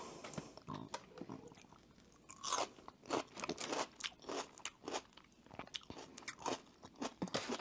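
Close, crunchy chewing while eating shrimp, a rapid series of moist bites and crunches in uneven bursts, loud and near against a quiet background with no talking.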